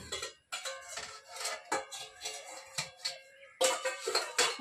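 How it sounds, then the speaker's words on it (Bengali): A pot lid comes off a pot of Kokila fish curry cooked with mustard and poppy seed, giving a close run of metallic clinks, clatters and scrapes with short pauses between them. "এবার আমি ঢাকনাটা খুলে দেখি।"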